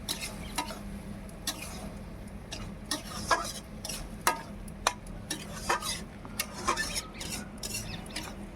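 A spoon scrapes and clatters against a pan while gourd curry fries and sizzles, with frequent irregular sharp stirring clicks over a steady low sizzle, close and moderately loud.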